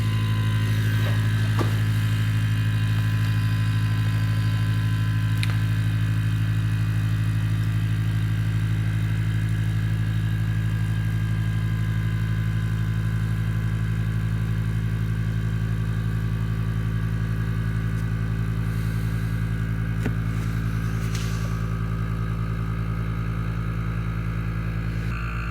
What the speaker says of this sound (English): turn the pump on